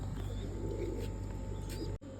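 White pigeons coo softly in a short burst inside their netted loft, a low murmur close by over a steady background hum, which cuts off abruptly near the end.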